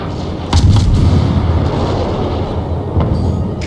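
Deep booming warship cannon salvos in World of Warships, with a heavy blast near the start and another later, over a constant low rumble from a British cruiser in battle.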